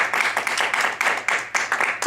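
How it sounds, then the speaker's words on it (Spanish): A small audience claps after a talk, a loud, close patter of distinct hand claps in an uneven rhythm with brief dips between bursts. "yo creo que es un aplauso para..."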